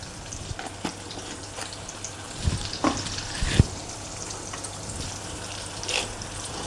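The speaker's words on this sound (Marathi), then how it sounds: "हिंग थोडासा टाकतोय भाजीत." Vegetables frying in a pan as a pinch of asafoetida goes in, a steady low sizzle with a few soft clinks and stirring scrapes standing out in the middle, close by and moderately quiet.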